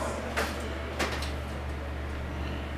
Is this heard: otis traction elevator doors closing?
yes